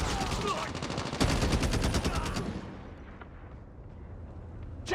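Rapid automatic gunfire in Call of Duty Mobile, a dense burst of close, loud shots for a couple of seconds followed by fading echoes and a sparse lone shot near the end.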